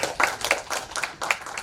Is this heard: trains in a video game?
no